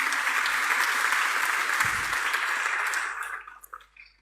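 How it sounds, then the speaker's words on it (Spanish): A church congregation applauds steadily for about three seconds, a dense wash of many hands that thins out into a few scattered final claps. "denle un aplauso al Señor"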